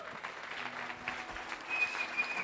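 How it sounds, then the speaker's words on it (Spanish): A church congregation claps together in a dense, steady wash of applause that stays fairly even throughout, with no talk over it. "Da un aplauso al Señor."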